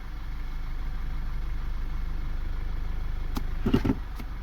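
Quiet, steady idle of a 2011 Audi A4 2.0T with CVT transmission, held low and even as it is shifted through each gear, with a few brief clicks and a short clunk near the end.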